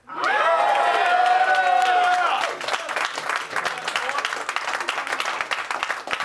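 A large live crowd at the Madden NFL 20 Challenge final, an esports video game event, breaks into loud, sustained cheering and dense applause that fills the space after a brief musical opening.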